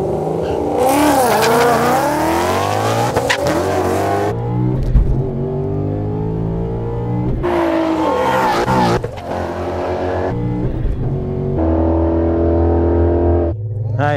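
A stick-shift 2015 Ford Mustang GT with over 700 horsepower on small drag radials launches hard at a drag strip, its engine revving and pulling loudly through gear changes across several bursts.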